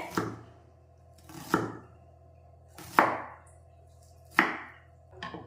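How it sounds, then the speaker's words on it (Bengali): Onions being chopped into small pieces on a board, five separate sharp knife chops at an uneven slow pace, close and clear with quiet gaps between. "পেঁয়াজগুলো এইভাবে চপ করতে হবে ছোট ছোট করে"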